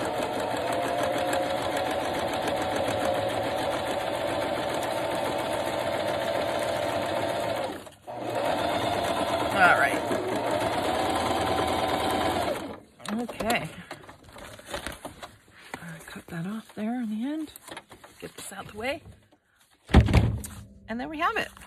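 A sewing machine stitches fabric in a steady, loud mechanical whir that pauses briefly and then runs again, followed by a person talking among handling thumps and clicks near the end.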